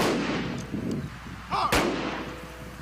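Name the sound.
rifle salute gunfire at funeral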